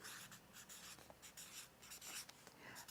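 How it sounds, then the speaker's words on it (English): Pen writing on a Mother's Day craft card, heard up close as a continuous scratchy stroking that pauses briefly between letters, faint and quiet, with no voices. "on the back, I can write, once I close it up"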